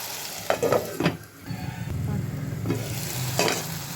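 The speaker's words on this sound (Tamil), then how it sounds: "நெக்ஸ்ட்டு சால்ட் ஆட் பண்ணுங்கள். நல்லா மிக்ஸ் பண்ணி விட்டுட்டு" Spoon stirring salt into watermelon skin kootu cooking in a pan, with scraping strokes and a steady sizzle underneath, close and fairly loud, no talking.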